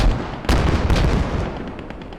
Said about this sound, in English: He's pinning down the allied troops with his MG.